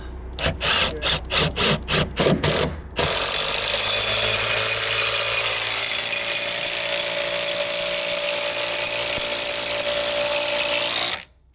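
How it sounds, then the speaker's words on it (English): A power tool drives long lag screws up from the underside into a bracket during construction of a wilderness home: a quick series of short rhythmic bursts, then one long, loud, continuous grinding whine that stops abruptly. "we basically have to put these long lags in from the underside"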